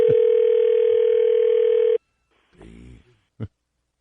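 A telephone line gives a loud, steady tone for about two seconds and then cuts off, followed by a couple of short, fainter clicks and rustles on the call.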